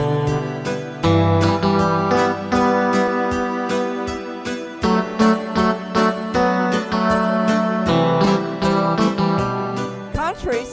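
An electronic keyboard plays a melody with a low duet harmony voiced beneath it, in steady sustained chords with rhythmic accompaniment, clear and close throughout, ending on a brief high flourish.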